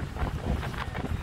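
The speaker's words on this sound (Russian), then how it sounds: "Ну, такой ветер, наверное" Strong wind buffets the microphone on a Lithuanian sea beach under a red flag, with rough waves; a steady, close, roaring rush with no voices.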